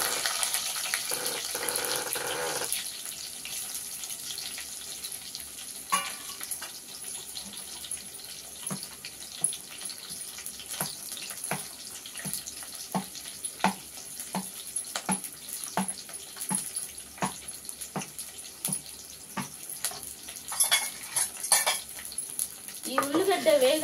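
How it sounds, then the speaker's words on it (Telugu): Onion stirred in a pan while cooking drumstick-leaf dal, with a steady hiss of frying and frequent clinks and scrapes of a spoon against the pan, fairly faint and continuous. "ఇప్పుడు ఉల్లిగడ్డ వేసుకుందాం."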